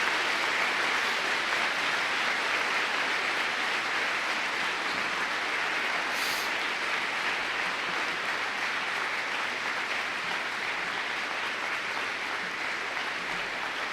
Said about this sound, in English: please join me in a round of applause for all of our veterans